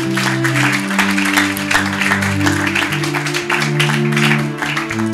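Congregation at a Bible study teaching applauding, continuous clapping across the whole span over sustained organ or keyboard chords.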